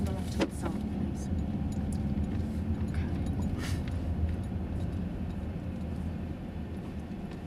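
Car driving at low speed during a driving lesson, a faint steady engine and road rumble heard from inside the cabin with a few light clicks and knocks.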